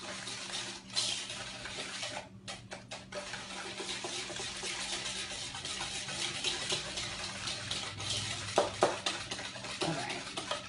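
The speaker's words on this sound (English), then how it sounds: "And now we're just gonna whisk it up." A sugar and butter mixture being whisked in a bowl for banana bread French toast sticks, a continuous wet stirring scrape with clinks and sloshes, fairly faint and steady throughout with no talking.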